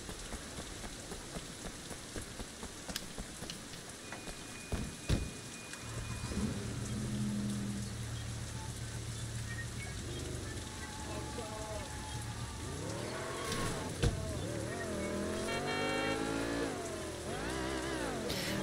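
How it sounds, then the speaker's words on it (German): Steady rain falls throughout a Sleeping Dogs gameplay scene, a dense constant patter with some low engine-like hum and a brief thump, while someone talks over it. "Regen."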